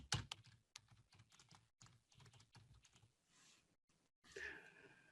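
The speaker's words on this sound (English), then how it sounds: "I'm going to write in here and type in interior elevations" Keys clatter on a computer keyboard in quick, uneven bursts with short pauses, close and fairly quiet, and there is no speech.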